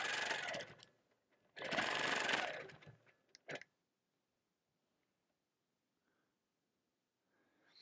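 Two quick bursts of rapid stitching come from a sewing machine quilting with metallic thread, each run lasting about a second, followed by a brief clatter and then near silence.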